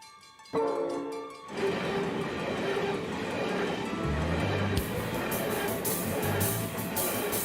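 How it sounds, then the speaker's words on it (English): A loaded coal train rolls past near Mudgee in inland New South Wales, its loud, steady rumble and rattling wagons starting abruptly and holding close and continuous to the end. "This coal train will take us close to Mudgee"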